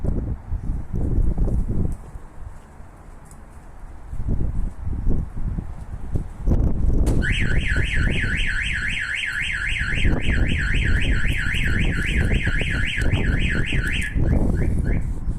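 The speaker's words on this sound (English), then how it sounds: "If someone applies a force to the vehicle, lifts it, hits it or moves it, the alarm will trigger." Thumps and rustling as force is applied to a Mercedes-Benz Vito van, then its StarLine E Series alarm starts wailing with a fast, repeating electronic warble that continues steadily to the end.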